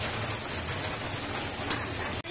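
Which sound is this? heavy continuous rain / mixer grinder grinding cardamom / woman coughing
heavy continuous rain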